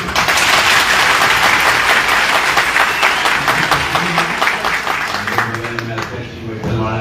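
Thunderous crowd applause at a welcome ceremony for a cabinet minister, loud and sustained throughout with dense clapping, while speech and raised voices carry through it near the end.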